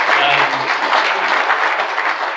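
Audience applause at a rally keynote, a dense, even wash of clapping that holds steady for a couple of seconds and fades slightly at the end.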